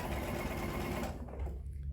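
A domestic sewing machine stitches quilted fabric blocks for a rick rack table runner, a close, steady mechanical whir that runs for about a second and then cuts off into quiet.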